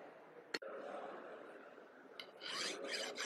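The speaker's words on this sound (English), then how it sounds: "All over the four sides we have to go for the filing." A hand file rasps across the sides of a metal workpiece in steady strokes, quiet and close, with a sharp click near the start.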